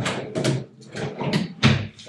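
A drawer on a Selvi extendable table slides open or shut in a few scraping bursts, ending with a sharper knock near the end, close and moderately loud.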